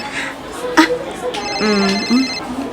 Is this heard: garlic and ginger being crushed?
no